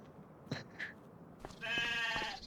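Sheep in the Farming Simulator 25 video game bleat twice in quick, short calls, followed by a longer, louder, wavering bleat up close, with no talking.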